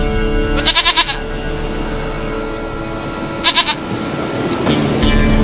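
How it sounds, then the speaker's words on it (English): Goat bleating in The Witcher 3: Wild Hunt, two short quavering bleats about three seconds apart, each a rapid pulsed burst, heard over a steady background of game ambience and music. "Goat of mine, dearest, sweetest goat."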